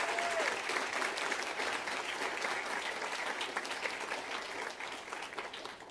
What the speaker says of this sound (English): Can everyone please join me in giving a round of applause for Miss Taylor and Miss Whedon?